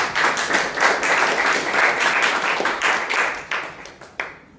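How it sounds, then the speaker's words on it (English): Audience applause at a Toastmasters club meeting fills the room, a dense steady patter of many hands clapping that thins into a few scattered claps before fading at the end. "A big round of applause for"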